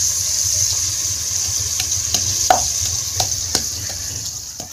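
Onions stirred and fried in a pan until lightly browned, giving a steady close sizzle with occasional scrapes and clinks of the spoon, and no talking.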